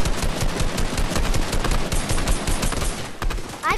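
Rapid automatic gunfire from the Fortnite video game rattles continuously and loudly in dense bursts, with no voices over it.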